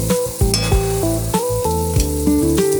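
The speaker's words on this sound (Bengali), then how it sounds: "লঙ্কাগুলো দিয়ে একটু ভেজে নেব।" Tomatoes and green chillies fry in a pan for a Bengali ghugni, a steady sizzle running under prominent tonal background music the whole time.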